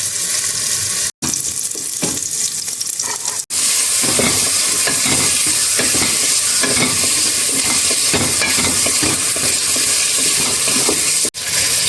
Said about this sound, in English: So we're just going to fry that up a bit.